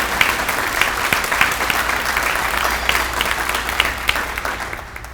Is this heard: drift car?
no